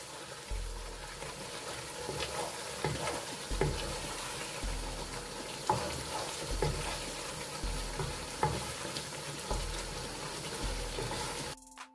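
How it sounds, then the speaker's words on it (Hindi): Chicken korma is stir-fried in a deep pot, giving a steady sizzle broken by regular scraping strokes and clinks of a spoon against the pot, close and fairly quiet, without talking. "इसको यहाँ पे आपने अच्छी तरह से करना है फ्राई, भून लेना है अच्छी तरह से।"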